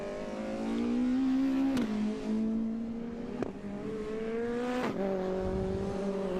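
Modified Ford race cars, including a Sierra Cosworth, race through a double apex corner at Mondello Park, a loud sustained engine drone with pitch dropping at several gear shifts.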